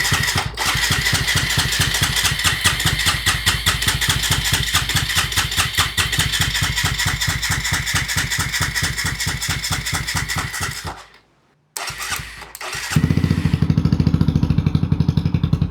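A TVS Apache RTR 180 motorcycle engine runs in a steady, rapid loud rattle for about eleven seconds, cuts out briefly to near silence, then restarts and settles into a fuller, lower idle.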